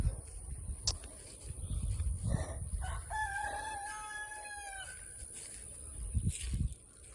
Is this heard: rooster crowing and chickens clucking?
yes